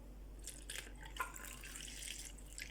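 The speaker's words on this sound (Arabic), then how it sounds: "اول حاجه نحط الميه" Water poured into a bowl to make flour, butter, salt and yeast bread dough: soft, quiet trickling and dripping splashes in short bursts, close by, with no talk.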